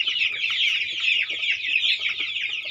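Poultry chicks on a farm give a dense, continuous high chirping, with many birds peeping at once close by.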